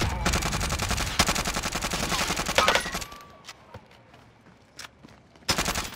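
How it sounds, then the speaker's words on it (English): Sniper and automatic gunfire in Warzone on Rebirth Island, with dense rapid shots for three seconds and then a few sharp isolated cracks, one loud near burst at the end. "I'm getting sniped at, like, right in front of me"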